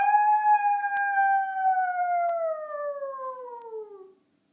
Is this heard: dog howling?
yes